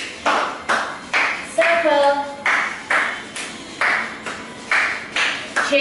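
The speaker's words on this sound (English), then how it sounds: "Clap it here." Hands clap during a fifteen-minute strength circuit workout, sharp single claps repeating in a steady beat about twice a second, close and loud, with an instructor's voice in between.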